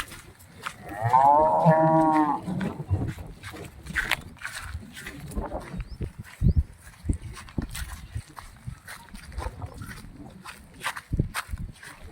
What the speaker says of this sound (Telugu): బ్లాక్ అండ్ వైట్ ప్యాచెస్తో ఉన్న హెచ్ఎఫ్ ఆవ్ ఇది